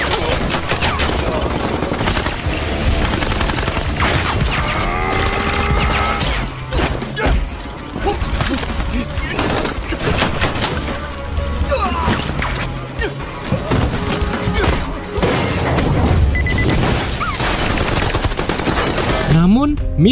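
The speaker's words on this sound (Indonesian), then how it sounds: "Sekelompok pasukan bayaran tengah baku tembak sengit melawan para teroris" Heavy gunfire in a cinematic firefight between mercenaries and terrorists during a rescue mission: dense, continuous bursts of automatic fire and loud impacts under a thick music score, with crashes and thuds scattered throughout.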